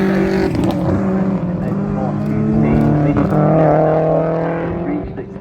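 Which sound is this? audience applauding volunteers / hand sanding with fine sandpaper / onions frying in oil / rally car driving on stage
rally car driving on stage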